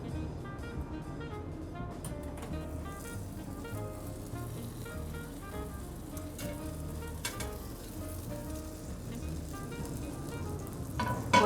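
Steak sears in a hot cast iron pan with a constant soft sizzle and crackle, fairly quiet and close, with no voices.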